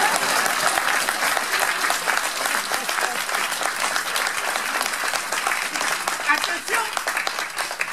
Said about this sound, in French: si vous voulez, vous pouvez applaudir